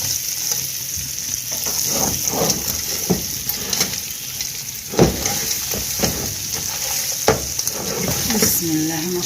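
Koshari ingredients stirred together in a single pot, a steady scraping and sizzling texture with soft clinks of the spoon against the pan, continuous and close, with no talking over it.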